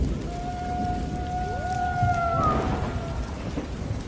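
Rain pours in a night thunderstorm with a low rolling rumble of thunder beneath it, while drawn-out whistling tones glide over the downpour and fade.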